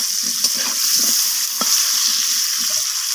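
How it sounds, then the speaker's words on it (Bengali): Potato pieces coated with salt and turmeric fry in hot oil, giving a steady close sizzle with a few sharp pops and stirring clinks, and no one speaking. "তো লবণ আর হলুদটা আলুটাকে মিশিয়ে নিয়ে আলুটাকে ভেজে নেব।"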